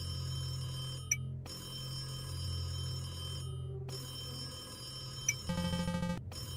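A telephone rings in a horror video game, its electronic bell tone sounding twice in short bursts over a steady low ambient drone, with a brighter chiming burst near the end.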